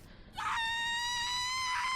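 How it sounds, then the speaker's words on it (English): A woman's high, sustained scream from the horror video game Death Mark rises sharply and holds steady and loud over a low background hum. "She's alive. She's screaming."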